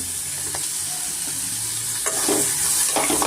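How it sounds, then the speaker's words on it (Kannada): Onions fry in a pan with turmeric and salt, a loud continuous sizzle close by with a few scraping stirs of a spatula toward the end. "ಈರುಳ್ಳಿ ಸ್ವಲ್ಪ ಚೆನ್ನಾಗಿ ಫ್ರೈ ಆಗಿ"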